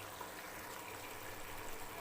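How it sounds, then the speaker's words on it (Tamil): Boiled hot water poured into a pot of measured rice for chicken biryani, a steady, soft gushing fill running continuously at low level with no voices. "ஸோ மெஷர் பண்ணி நான் தண்ணி ஆட் பண்ணிக்கிறேன்."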